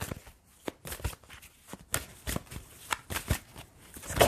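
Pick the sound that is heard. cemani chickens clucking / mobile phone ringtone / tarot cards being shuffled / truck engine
tarot cards being shuffled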